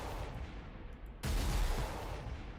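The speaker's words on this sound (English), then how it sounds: "let's blow this thing away with the Death Strike missiles" Death Strike missiles launched in the Warhammer 40k Armageddon game: a loud, heavy blast bursts in abruptly midway over a low rumbling backdrop, then a sustained booming roar carries to the end without voices.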